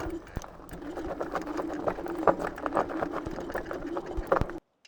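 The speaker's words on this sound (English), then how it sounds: "One of the downsides of the two motors is under heavy torque, under heavy load, they make quite a lot of noise." Dual hub motors of a DUOTTS S26 fat-tire e-bike on an off-road trail, a steady mid-pitched whine under heavy load mixed with rattling clicks and knocks, fairly close, then cutting off abruptly.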